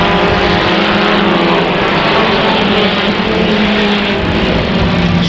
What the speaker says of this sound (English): Street stocks hit the green flag